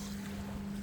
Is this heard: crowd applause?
no